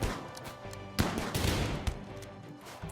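Gunfire in RimWorld with a shotgun in play, a few sharp cracks and a rattling burst at a modest, fairly distant level, with no talk.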